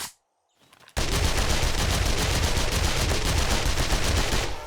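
Sustained rapid SMG fire in 7 Days To Die, a loud continuous automatic burst after a brief quiet start, with no talking.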